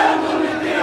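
Protest march crowd in Bogura, Bangladesh, a loud, close, continuous roar of many voices chanting together without a break.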